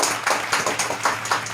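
An audience claps to welcome mimicry artist Ahmad Syed, with loose, uneven clapping that swells in short waves and sounds fairly close.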